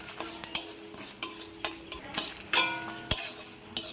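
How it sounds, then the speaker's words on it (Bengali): A utensil stirs and scrapes spices including fennel seeds around a pan in repeated strokes about every half second, with metallic clinks over a faint sizzle. "এবার দুটো একসঙ্গে নেড়ে চেড়ে ভালোভাবে ভেজে নেব।"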